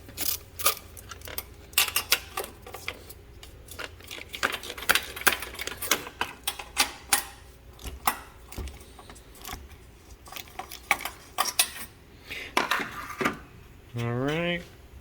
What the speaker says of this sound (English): get to unbolting these top 3 bolts here. Now these 3 are going to be a 13mm. You may need a ratcheting wrench also.